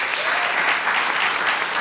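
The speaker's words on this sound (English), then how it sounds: "Let's give him a round of applause." A large audience at a music event applauds an event manager, dense steady clapping that stays loud and even throughout.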